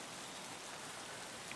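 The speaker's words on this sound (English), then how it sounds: "I hear the rain really loud" Steady rainfall in the video game Escape From Tarkov, a dense, even hiss of drops on surfaces that runs unbroken and fairly loud throughout, with no voices.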